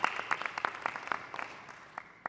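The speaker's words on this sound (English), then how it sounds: "All right, let's clap it up, come on." Light, scattered clapping from a small panel audience at a convention, a handful of distinct nearby claps that thin out and trail off within a couple of seconds.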